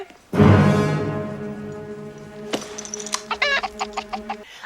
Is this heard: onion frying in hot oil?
no